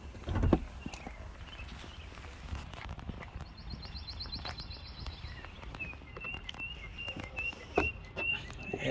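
Faint birds chirp and whistle outdoors in the background beside a Maserati Quattroporte, their brief calls mixed with louder rustling, footsteps and handling thumps nearby.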